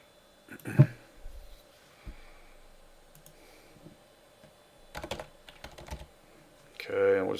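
Someone types an email on a computer keyboard in a quiet room, producing short scattered clusters of soft key taps with pauses in between. A brief voiced sound comes at the very end.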